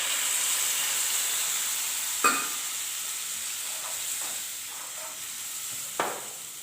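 Half a glass of water poured into mackerel and mango curry sizzling in a pan, a steady hiss with two sharp splashy bursts of sizzle and faint stirring between them, close and without talk.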